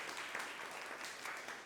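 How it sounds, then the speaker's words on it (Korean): A church congregation at a Sunday service in The Hague applauds to welcome a visiting couple, soft continuous clapping heard from a distance throughout. "주님의 이름으로 환영합니다. 박수 치겠습니다."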